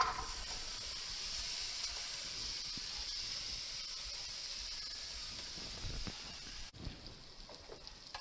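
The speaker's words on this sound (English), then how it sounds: "put this on the stove and cook this on low till the bacon is cooked and the onions are translucent" Bacon and onions cook on a stovetop over low heat, a soft continuous hiss of gentle sizzling, with a faint clatter near the end.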